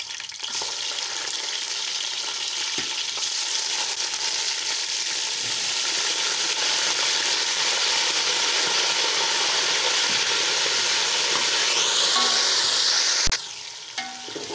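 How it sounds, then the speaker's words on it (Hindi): Beef kebabs fry with browned onions in a pan, giving a steady, loud, continuous sizzle for most of the stretch, with faint stirring and scraping and a sudden sharp knock near the end. "प्याज हमारे ब्राउन हो चुके हैं अभी हम डाल देते हैं इनमें कबाब जैसे बीफ कबाब"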